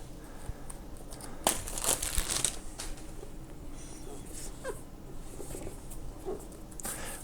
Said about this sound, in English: let's go ahead and take off this plastic and see what it looks like inside